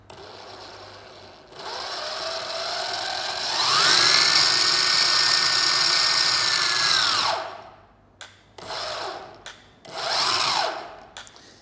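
Meepo City Rider 2 electric skateboard hub motors spin up with a loud, rising whine that holds steady, drops away, then comes back in two shorter bursts. No one speaks.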